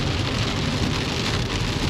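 Heavy winter rain pounds steadily on a moving car, a dense continuous roar with low rumble beneath and no let-up across the whole stretch.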